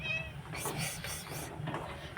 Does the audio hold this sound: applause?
no